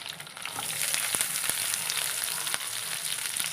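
Curry leaves and onion frying in a pan for a prawn curry, a steady close sizzle with scattered crackles and pops throughout, no voices.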